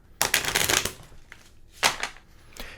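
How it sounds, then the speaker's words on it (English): Index cards are shuffled at close range in two quick riffling bursts separated by a pause, crisp papery flutters followed by a soft tap. "Let me shuffle up some right now."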